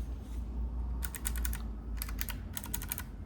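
Rapid keystrokes on a custom-built mechanical keyboard with Cherry MX switches, some faulty, arriving in three dense clusters of crisp clicks over a low steady hum, with no talking.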